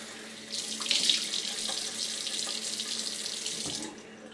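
A tap runs steadily into a sink to wet the face for a shave, a continuous close hiss of flowing water that starts after a moment and cuts off near the end.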